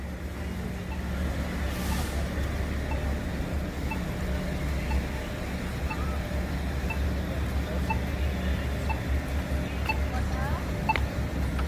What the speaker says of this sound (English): This one sounds like a New York crosswalk button a little.